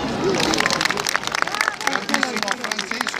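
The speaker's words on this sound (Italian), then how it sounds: "Un applauso." An audience in a town square at the 2018 Maschera di Ferro historical re-enactment in Pinerolo applauds cyclist Francesco Moser on stage, with steady clapping under crowd murmur and speech.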